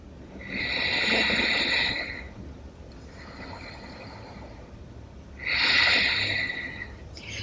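Slow, deep yoga breaths rush close to the ear, two long airy exhales separated by a quieter inhale, with no talking.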